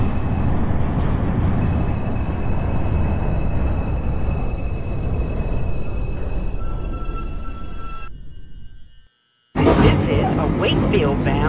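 A Wakefield-bound 2 subway train in the OpenBVE simulator rumbles steadily through Gun Hill Road station, with a continuous loud roar and tonal whine that cuts off abruptly before a burst of brighter noise.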